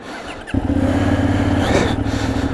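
A 2020 Benelli 752S motorcycle engine fires up and settles into a deep, throaty exhaust rumble, loud and close, holding steady for a couple of seconds.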